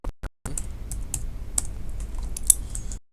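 Fingers tap a computer keyboard during graphic design work, a quick run of close, light key clicks after a couple of isolated presses, ending abruptly.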